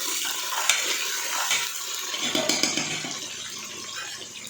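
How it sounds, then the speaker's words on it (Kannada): A steady, close hiss of chopped onions frying in a pan, with a few sharp scraping clicks as they are stirred; no talking. "ಈಗ ಈರುಳ್ಳಿ ಫ್ರೈ ಆಗ್ತಾ ಇದೆ."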